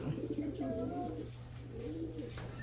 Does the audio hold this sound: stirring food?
no